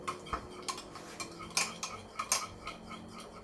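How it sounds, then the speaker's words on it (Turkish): A spoon stirs a room-temperature yeast mixture in a bowl, making a string of light, irregular clinks and taps over a faint background hiss, close up with no voices. "Güzelce karıştırıyorum."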